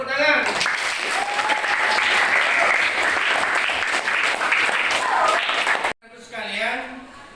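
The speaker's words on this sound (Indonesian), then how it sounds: "Kita aplaus, tepuk tangan." A classroom audience at a teaching practice session breaks into sustained hand clapping, dense and loud for about six seconds, then it stops abruptly and a voice speaks.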